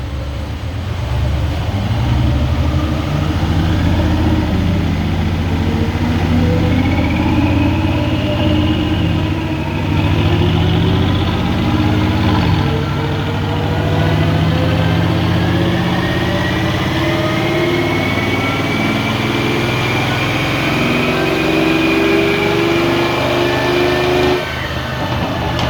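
A 2017 Mercedes GLE 63 with 65,000 km revving through the gears, a loud, sustained engine drone rising in pitch with each gear and dropping between shifts, heard from inside the car.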